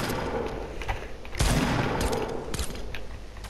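Gunfire in a Fortnite match crackling in a dense, rapid burst near the middle amid a busy, noisy game soundscape, fairly loud and close with no speech.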